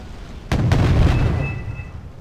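Tank firing a shot in the video game Wargame: a single sudden loud boom with a second blast close behind it, then a rumbling decay and a faint high whine fading out.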